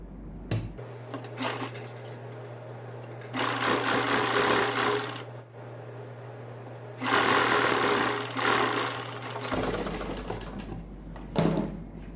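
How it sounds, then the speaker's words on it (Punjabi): An electric sewing machine stitches a seam on a ladies' suit. Its needle whirs in three long bursts and a brief final one, with a steady motor hum and quiet pauses in between. "ਪਹਿਲਾਂ ਵਾਲੀ ਸਲਾਈ ਦੇ ਉੱਪਰ ਉੱਪਰ ਆਪਾਂ ਸਲਾਈ ਲਾ ਦਾਂਗੇ"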